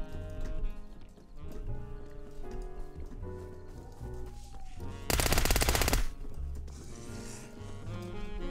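A short, dense burst of automatic gunfire in the Roblox survival game Apocalypse Rising 2 erupts for about a second midway, loud and close, over a constant bed of game music and ambience.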